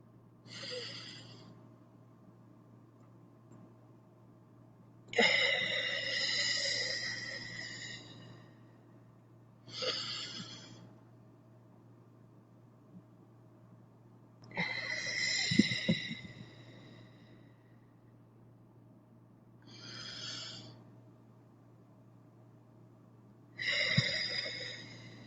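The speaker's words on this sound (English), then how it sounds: "Taking some deep breaths." Slow, deep breaths during a guided relaxation, each inhale and exhale a soft, airy swell lasting a couple of seconds, repeated about six times with pauses between, close and fairly quiet over a steady low hum.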